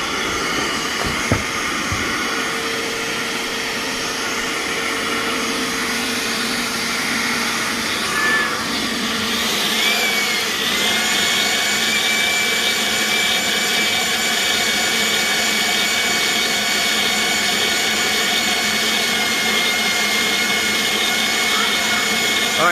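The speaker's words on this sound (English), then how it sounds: "So let me go ahead and put my ShopVac on something else, and then we'll try this again." A shop vacuum serving as a workshop dust collection system runs continuously, a loud steady whine and rushing airflow that shifts in pitch partway through and then holds constant until the end.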